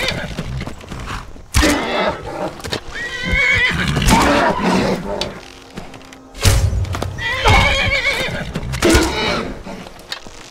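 A horse in the video game Skyrim neighs and whinnies loudly several times, with hoof clip-clops and thuds between the calls, close and prominent.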